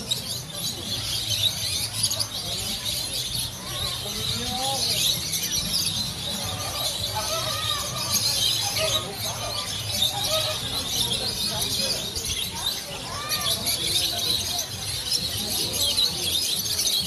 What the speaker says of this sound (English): The bird is on my phone.